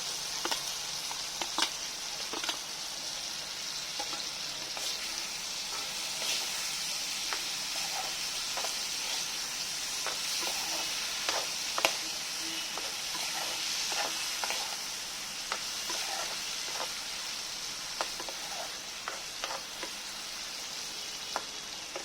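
Potatoes and tomatoes fry in a pan over a low flame with a continuous sizzle, broken by scattered clicks and scrapes from stirring.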